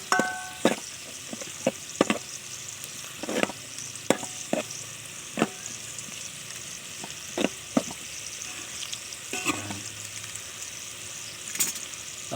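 Onions and shrimp paste frying in oil for a mung bean stew, a steady close sizzle punctuated by repeated sharp clacks of a spatula stirring against the pan.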